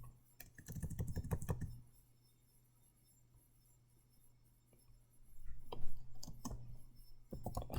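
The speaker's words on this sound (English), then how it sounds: "I can just type in V final squared if I want" Bursts of rapid keyboard typing, close and clear, with a quiet pause between two flurries of key clicks.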